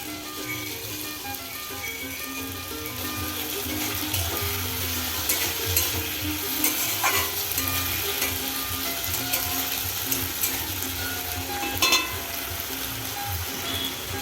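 A paste of ground cumin, green chili and ginger fries with pumpkin stalks and pea pods in a pan, giving a steady, close sizzle with scraping stirs and small clinks throughout, no voices.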